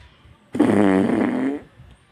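A mouth-made fart imitating diarrhea, a single loud, wet, sputtering blast lasting about a second, produced by a voice alone with no talk around it.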